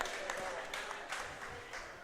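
A crowd claps steadily for a couple of seconds, dense and even, with faint voices mixed underneath.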